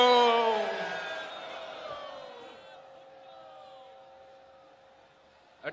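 Rally crowd at a Benazir Bhutto death anniversary gathering, a loud burst of many voices chanting slogans that fades into a long, faint tail of echoing shouts with no other sound.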